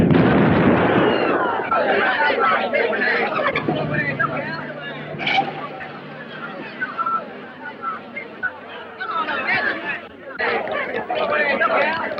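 A bomb explosion from the 1936 film Sabotage, a loud roaring blast with rumbling debris and commotion that fill the whole stretch, mixed with crowd noise and voices.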